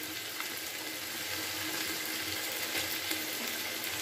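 Spices for rui fish curry, with chili powder and black pepper, sautéing in a pan with cauliflower and potato, giving a steady, close sizzle that continues evenly throughout.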